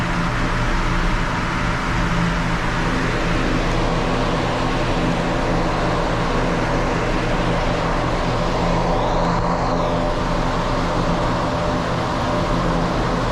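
2021 Subaru Outback XT turbo engine with CVT running on a dyno, a loud steady mechanical drone with broad roaring noise and a constant low hum throughout.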